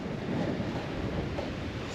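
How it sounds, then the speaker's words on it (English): Strong wind blowing outdoors on a cold March day, a steady broadband rush with gusty swells, loud and close with no voices. "Still really windy and cold"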